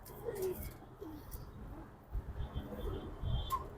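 A racing pigeon coos softly at close range in a pigeon loft, with a few low rolling calls over faint background noise.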